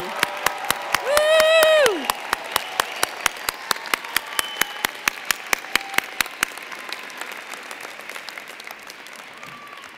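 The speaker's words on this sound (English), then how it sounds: "would like to salute you with a round of applause" A commencement crowd for new Masters of Education graduates applauds, with a brief whoop of cheering early on, then a sparse, slowly thinning patter of clapping.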